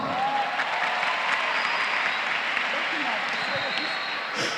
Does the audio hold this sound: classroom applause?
yes